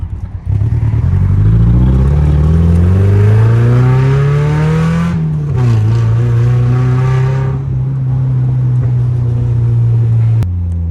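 A 35-year-old car drives along a road, its engine droning loud and close, the pitch climbing through the revs, dipping at a gear change and then holding a steady roar.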